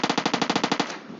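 Rapid automatic gunfire in the PUBG battle royale video game, about a dozen evenly spaced loud shots in a quick burst that ends abruptly and decays into a brief tail, with no voices.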